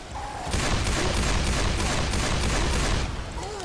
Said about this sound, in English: You want to keep shooting as much as possible.